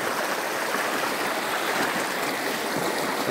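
A clear mountain stream in a ravine rushes and burbles steadily, a close, dense wash of flowing water with no voices.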